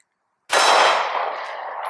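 A single sharp report from a Smith & Wesson M&P Shield pistol firing 115 grain ammunition, a loud abrupt crack after silence followed by a ringing decay.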